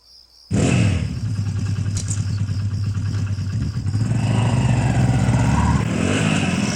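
A motorcycle engine starts up abruptly and runs steadily with a low throbbing rumble and rising revs, close by and loud, with no talk over it.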